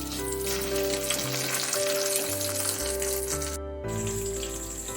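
Pomfret fish frying in oil in a pan, a soft steady sizzle and crackle heard alone at low volume over a faint musical background.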